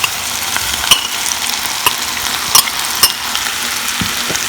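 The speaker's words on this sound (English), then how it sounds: "Then I'm going to fry this." Potatoes and sun-dried mushrooms frying in a little oil, a loud steady sizzle up close, broken by sharp spatula clicks and scrapes against the pan every second or so.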